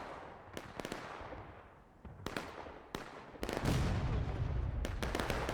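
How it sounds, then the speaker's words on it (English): Artillery fire in a large-scale American Civil War battle game, with sharp booming blasts and scattered cracks of gunfire at irregular intervals, ending in a heavier, rumbling impact. "Nice arty shot coming at the CSA on their corner up here"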